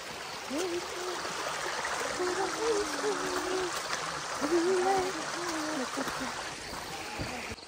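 A mountain stream flows and trickles in a steady, soft rush close by, with a voice briefly talking over the water in short bursts.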